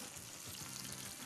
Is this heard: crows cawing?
no